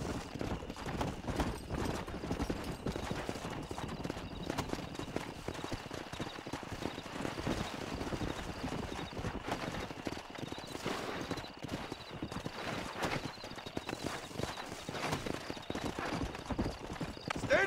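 Horses clip-clop at a steady trot through a Red Dead Redemption game scene, with a whinny breaking in now and then over a continuous, busy ambience.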